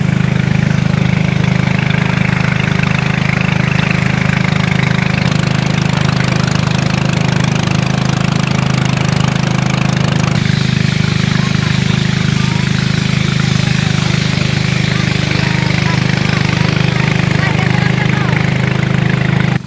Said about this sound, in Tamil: இந்தியா பங்களாதேஷ் பார்டரில் இருக்கிற ஒரு ஆறில் படகு பயணம் செய்து கொண்டிருக்கிறோம்